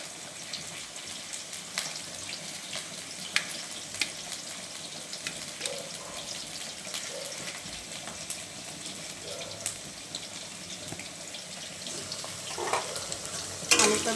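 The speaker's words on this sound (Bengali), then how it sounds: "আলুটা ভেজে নেব ভালো করে" Potatoes fry in oil with cinnamon and cardamom, a steady soft sizzle with light scraping stirs and faint clinks throughout, growing a little busier toward the end.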